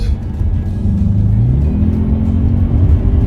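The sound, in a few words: Audi RS6 engine revving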